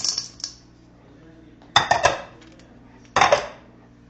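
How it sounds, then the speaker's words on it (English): Chocolate chips and crushed mini Cadbury eggs tumble into Easter cookie dough in a bowl, giving a brief clatter at the start, then two louder rattling bursts of candy and utensil clinks against the bowl. "we're going to add in our chocolate chips and our crushed mini Cadbury eggs."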